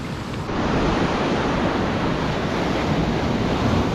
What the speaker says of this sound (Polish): Przed chwilą jeszcze większa fala doleciała.